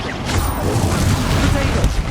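A Confringo fire-blast spell explosion in Hogwarts Legacy, a deep booming blast over steady rumbling battle noise, loud and close, filling the whole moment without a clear single onset.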